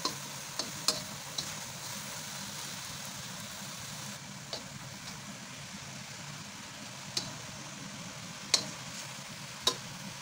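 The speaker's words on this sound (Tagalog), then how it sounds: "Haluin lang natin." Cabbage, mushroom and carrots are stirred in a pan, with a quiet steady sizzle broken by sharp ticks and clinks of a utensil against the pan.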